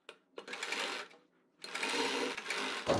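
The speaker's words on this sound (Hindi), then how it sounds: "नापने के बाद हाफ इंच का मार्जिन लेते हुए सीधी सिलाई से अटैच करेंगे।" A sewing machine runs straight stitching on a kurti in two steady bursts with a short pause between them, close and fairly loud.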